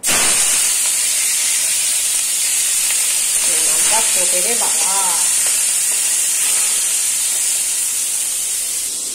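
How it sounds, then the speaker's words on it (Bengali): Stinging catfish (shingi) fries lightly in oil, giving a continuous loud, close sizzling hiss throughout. A voice is heard faintly and briefly partway through. "তো এটা হালকা ফ্রাই করে নেব।"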